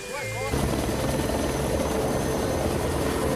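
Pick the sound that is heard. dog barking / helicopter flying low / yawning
helicopter flying low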